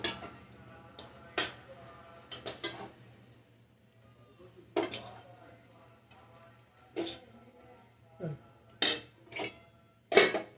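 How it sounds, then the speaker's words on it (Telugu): A lid goes onto a metal cooking pot of freshly made pulihora (tamarind rice) in a home kitchen, giving scattered close clanks and clinks spaced across several seconds over a low steady hum. "జర కొంచెం మూత పెట్టి వేస్తున్నా"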